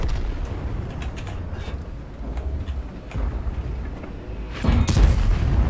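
Several deep booming tank cannon shots in World of Tanks ring out one after another over a rumbling engine drone, with a louder, closer blast near the end.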